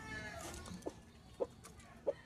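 Boston gamefowl rooster, a young bird, giving three short, sharp clucks spaced about half a second apart over a quiet, low background hum on the farm.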